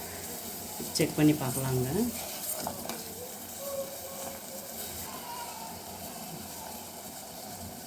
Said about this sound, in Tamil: சர்க்கரை வந்து நல்லா கொதிக்குது